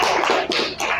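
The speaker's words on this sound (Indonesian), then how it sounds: "Sekali lagi tepuk tangan buat kalian." A short burst of close, lively hand clapping from a group of students in a classroom, loud and dense for about a second.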